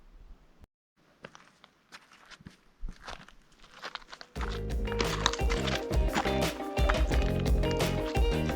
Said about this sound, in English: The only sounds up here are the wind and our footsteps